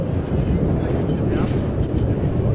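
Red Arrows synchro pair, Red 6 and Red 7, pulling up at an air show at NATO Days in the Czech Republic, heard as a broad continuous jet roar with gusty wind noise, close and loud.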